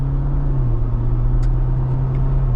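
A hybrid Jeep Wrangler accelerates, a steady loud engine hum and low rumble heard from inside the cabin, with a constant drone and no voices.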